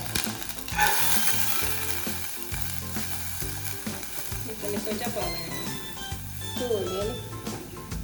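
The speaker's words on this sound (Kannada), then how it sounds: "ಸಾಸಿವೆ ಪುಡರ ಸ್ಟಾರ್ಟ್ ಆನಾಗ ನಾನು ಮಿಕ್ಸ್ ದಾಲ್ ಪಡೋದಿಲ್ಲೆ" Mustard seeds splutter and crackle in hot oil with a busy, close sizzle, while a voice talks over it.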